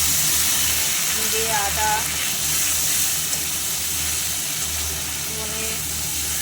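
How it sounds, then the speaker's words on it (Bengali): Ground spice paste, with cumin and ginger, sizzles and hisses steadily in a pan of fried chopped onions while preparing a potol chingri (pointed gourd and prawn) dish; a voice talks over the frying throughout. "এবার দিয়ে দেব সমস্ত বাটা মশলা"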